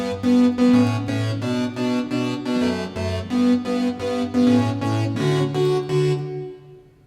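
Pulse synth pad playing a syncopated dotted-eighth arpeggio on keyboard, steady rhythmic chord pulses that shift harmony, loud and clean, then fade out at the end.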